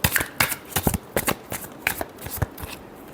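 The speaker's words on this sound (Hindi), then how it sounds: "Last shuffle." Tarot cards shuffled by hand, a rapid run of crisp riffling bursts and soft slaps in an uneven rhythm, close and clear.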